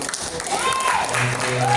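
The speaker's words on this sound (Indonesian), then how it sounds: "Tepuk tangan untuk semuanya." Clapping from an audience at an Islamic business seminar rises under a voice speaking over a loudspeaker, with the talk prominent above the brief burst of applause.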